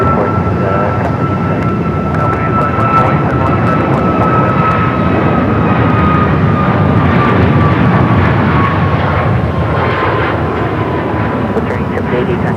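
A jet airliner on the runway at Phoenix Sky Harbor airport, its engine roar loud and continuous with a sustained whine across the whole stretch, while a radio voice talks over it.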